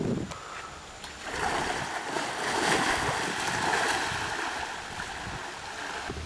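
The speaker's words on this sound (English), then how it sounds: "Griff will take 5 paddle strokes, demonstrating how time is a factor in impulse" Paddle strokes churn water in a kayak or canoe on open water, a steady wash of splashing that swells and eases as five strokes go by, fairly close.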